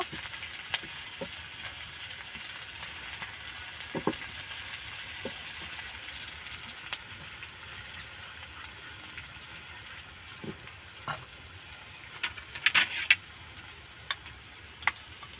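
A raw potato snack with peanuts and green chili frying in a pan gives off a quiet, steady sizzle. Sporadic clicks and scrapes come through as the mixture is stirred.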